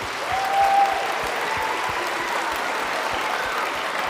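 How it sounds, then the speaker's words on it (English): Steady applause from a concert audience at a school band Christmas concert, moderately loud and continuous throughout without a break. "So can we give those businesses a round of applause, please?"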